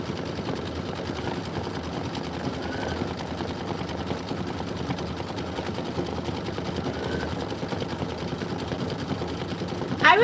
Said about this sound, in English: Stitch it out. That is going to be 2 minutes of stitching